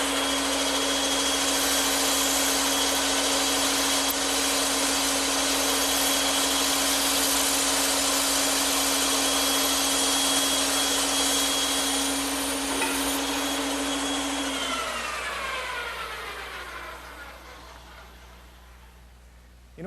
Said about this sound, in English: take it over to the bandsaw, and cut out the curved portions using a 1/4 inch blade set up in the saw